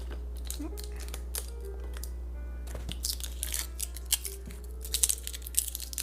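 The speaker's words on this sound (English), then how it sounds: "I'm just going to go ahead and just trim off the excess here. With my scissors." Scissors snip and trim the excess off a black pickguard in a quiet workshop, a series of small crisp cuts and paper-like crinkles that grow busier toward the end, faint and close.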